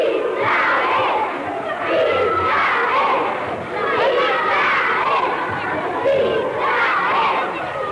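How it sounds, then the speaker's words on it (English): A crowd screams and shouts at demonstrators around secret police agents, a dense, steady roar of many voices that surges and dips for several seconds. "a crowd milling around the raging secret police agents kept screaming at the demonstrators"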